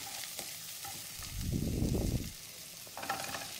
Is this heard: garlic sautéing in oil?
yes